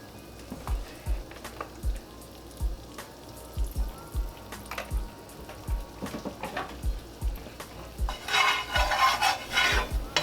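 A spoon scrapes and stirs a browning flour and oil roux in a pan, a series of soft rhythmic knocks and scrapes close by, ending in a brief sizzling rush.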